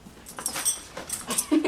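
A dog whimpers and whines during trick training at home, a few short, high-pitched nasal whines with faint jangling or shuffling between them, close by.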